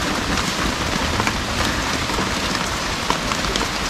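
Steady rain pours down in a dense, even hiss with scattered drop splashes, continuous and fairly loud with no voices.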